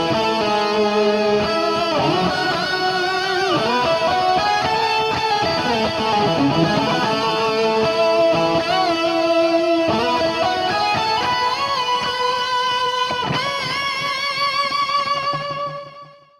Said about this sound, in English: Coming in after that is the guitar lead that everybody loves to hear,